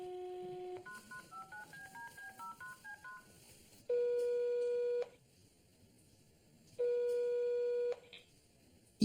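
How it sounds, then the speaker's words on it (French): A telephone is dialed: a quick run of about a dozen touch-tone beeps at varying pitches, followed by two long, loud ringback tones separated by silence, with no voices. "Il suffit pourtant de décrocher son téléphone"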